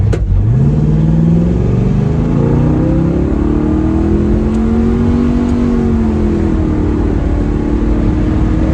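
A 1967 Pontiac GTO's engine revs hard on the road, a loud, steady, close growl with rising and shifting pitch as the car accelerates through the gears.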